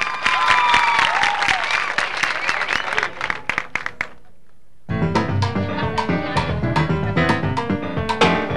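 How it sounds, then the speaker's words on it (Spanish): Loud applause from a crowd for a casino dance couple at a Bailar Casino event, dense clapping running almost throughout with a short lull midway before it surges again. "El aplauso para ellos."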